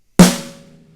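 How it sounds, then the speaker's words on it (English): A single regular snare drum stroke in a beginner drum lesson, loud and close, with a sharp crack that rings out and slowly decays over about a second, alone with no talk. "So if a regular snare hit sounds like this"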